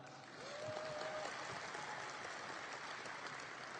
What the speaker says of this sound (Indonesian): Tepuk tangan untuk Bung Karno.